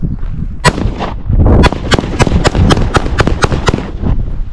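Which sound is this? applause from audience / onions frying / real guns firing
real guns firing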